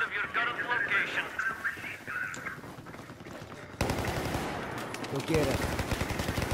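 Rapid machine gun bursts and gunshots in a first-person shooter video game, loud and crackling, mixed with a game radio voice and players talking over the firing.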